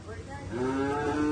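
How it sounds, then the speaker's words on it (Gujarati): Cows and a calf at a cattle shelter run by an animal-welfare trust in Surat, giving a rising, sustained moo that swells louder partway through, with people talking nearby. "આ ગાય માતા હે નાના બદુડા."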